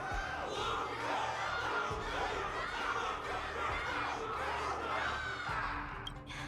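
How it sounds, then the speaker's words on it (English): A crowd roars and cheers in Honkai: Star Rail after a battle victory, a dense, steady wall of voices that holds loud and unbroken throughout. "Can't you hear? Everyone's cheering for you"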